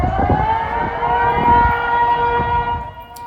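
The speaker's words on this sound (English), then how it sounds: "These are tsunami sirens sounding in the north of Japan." Loud, sustained tsunami warning sirens drone on a steady tone in northern Japan after an 8.8 magnitude earthquake, with low rumbling noise beneath.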